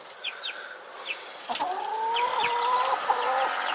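Rooster and chicks in a farm setting: high, repeated chick peeps and short clucks come first, then a long wavering call rises and holds steadily over a constant outdoor background, fairly close.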